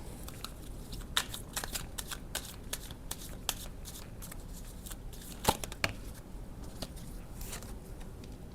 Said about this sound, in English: I'm going to take some cards.